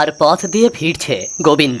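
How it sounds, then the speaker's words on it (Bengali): Crickets chirp steadily on a cartoon evening in a small village beside the Sundarbans, a thin continuous high trill running under close narration that fills most of the moment. "সন্ধ্যায় চারিদিকে ঝিঝি পোকার ডাক শোনা যাচ্ছে"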